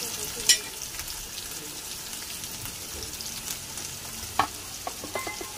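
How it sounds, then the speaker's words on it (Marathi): Onion for zunka fries in a pan with a steady, close sizzle throughout. A couple of sharp clicks from stirring break through the frying noise. "आता कांदा पण चांगला लालसर होऊ द्यायचा।"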